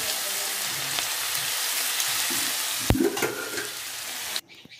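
Cumin, cinnamon, black pepper and ginger-garlic paste frying in a pan for a paneer and pumpkin curry, a loud steady sizzle with one stir sound partway through before the sizzle cuts off.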